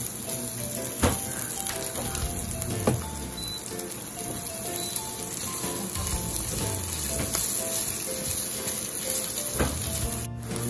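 Garlic frying in a hot pan for kare-kare, a steady close sizzle with occasional louder pops and stirring clatter throughout, no talking.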